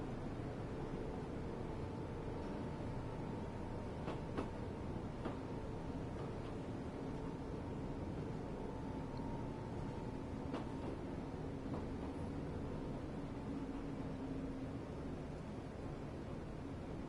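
A train running in the Train Life railway simulator game on PS5, a steady low rumble and hiss of rolling carriages with faint tonal hums and a couple of brief clanks, quiet and continuous.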